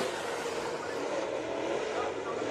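Race cars during a heat race at Bakersfield Speedway, a dense continuous engine roar from a distance, steady and unbroken throughout.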